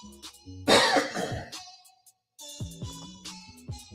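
A person coughs hard once, a loud close burst followed by a short rough tail and throat noise, then a brief silence and softer movement sounds.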